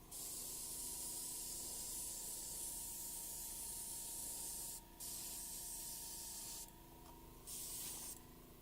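An airbrush running at 30 psi sprays a thin coat of Vallejo surface primer onto plastic pieces, giving a steady close hiss that cuts out briefly twice and then resumes.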